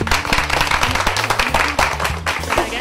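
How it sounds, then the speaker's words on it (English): Students in a classroom applauding themselves, a dense burst of hand claps over a steady low hum, close and fairly loud throughout. "I want everyone to give yourselves a round of applause"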